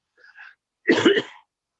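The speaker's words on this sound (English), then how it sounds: "I'm going to cough again" A single short cough bursts out in a meeting room, preceded by a faint breathy catch, close and alone.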